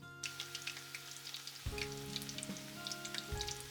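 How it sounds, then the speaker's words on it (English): Mixed vegetable kakiage tempura deep-fries in hot oil, a bright crackling sizzle that jumps louder partway through as the fritter is turned, then keeps bubbling steadily close by with no voices. "Turn over it and deep fry it about 30 seconds."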